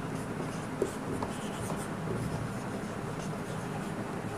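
Marker or chalk writing on a board while solving a physics problem, soft continuous scratching strokes with a small tap, moderately close over a steady room hiss, no speech.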